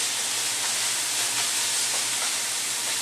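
Meat browning in a pan in a home kitchen, a steady, even sizzle and hiss filling the whole stretch, with faint crackles scattered through it and no voices.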